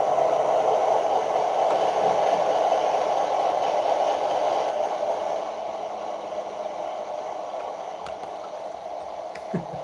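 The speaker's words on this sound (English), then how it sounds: "when you hear a train sound like that" A train rumbles past with a steady roar and rattle, loud at first and easing slightly as it recedes.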